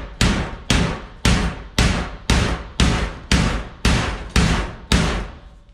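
Hammer blows breaking apart a weld on a metal IBC tote frame, nine loud, evenly spaced ringing strikes close by, each decaying briefly before the next.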